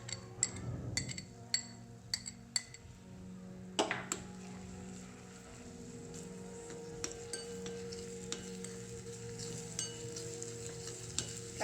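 Chopped onions and garlic frying in hot oil for a dal tempering, a steady close sizzle with occasional stirring clinks of a spoon against the pan.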